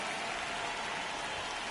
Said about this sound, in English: The Show brings you baseball on a rainy night.